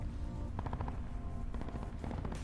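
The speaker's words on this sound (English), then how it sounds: "We hear gunshots coming from around probably train station" Bursts of gunfire in Call of Duty Blackout: several quick clusters of sharp shots, fairly faint and distant, with no talking.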